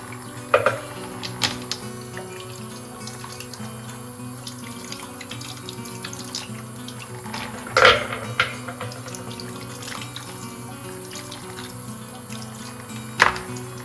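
Tumbled rocks are scrubbed under a running tap, with a steady stream of water and occasional sharp knocks and clatters of stone against the sink.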